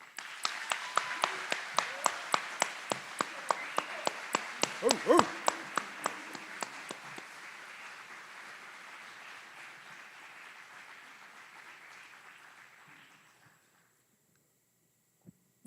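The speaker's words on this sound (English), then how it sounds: "Please join us in a round of applause to these outstanding drill sergeants and instructors." A large crowd applauds drill sergeants and instructors at an Army aviation brigade ceremony at Fort Eustis, with a few sharp rhythmic claps at first settling into sustained, steady applause that fades out near the end.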